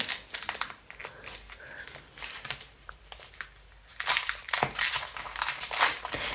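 A Pokemon Prismatic Evolutions card pack is opened up close, its foil wrapper crinkling and crackling in dense, irregular bursts that grow louder and busier toward the end, with no talking.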